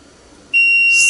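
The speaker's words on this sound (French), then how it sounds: "vous baissez la porte dessus, vous avez entendu un petit bip" A SUNLU filament welder gives a single steady electronic beep as its door is lowered onto the filament, sounding close and loud after a quiet moment, with no talk.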